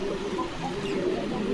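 Pigeons coo softly and continuously at close range in a pigeon market, a low murmuring warble without clear speech.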